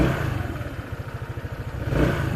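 A Skygo Bolt 150 motorcycle engine idles with a quick pulsing beat, then its throttle is blipped toward the end, the revs rising in a close, moderately loud surge without speech.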